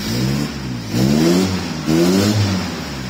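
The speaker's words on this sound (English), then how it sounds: "And that's just revving it on the spot." An Iveco Daily 35-8 van engine with a custom exhaust revs hard twice in quick succession while stationary, its deep, throaty exhaust rising and falling loud and close, with no talking.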